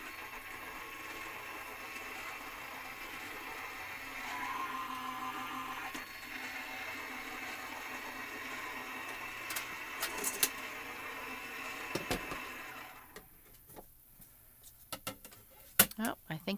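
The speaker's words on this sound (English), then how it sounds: "running it for the Gemini Junior." A Gemini Junior foil press runs at medium heat, a steady motorised whir with light mechanical clicks, then stops into quiet broken by a few sharp clacks as it finishes.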